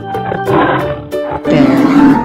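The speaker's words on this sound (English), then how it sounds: "Lion." A lion roars in two loud, close, rough bursts with a short break between them, heard alone with no talking.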